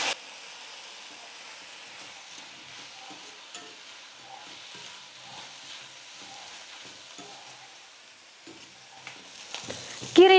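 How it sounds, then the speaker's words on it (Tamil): Vallarai keerai (brahmi greens) with cut coconut being sautéd in a pan over a medium flame, a steady soft sizzle with light stirring scrapes throughout and a louder clatter at the very end. "கீரையை நல்லா ஒரு 3 நிமிஷத்துக்கு ஸ்டவ்வை மீடியம் ஃப்ளேமில் வச்சுக்கிட்டே வதக்கி எடுத்துக்கிட்டேன் பாருங்கள்"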